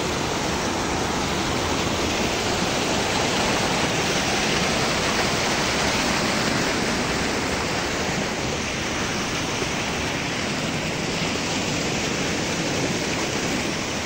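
Water pours down a cut mountainside in a steady, dense roar, loud and unbroken throughout, like a close waterfall, with no voices.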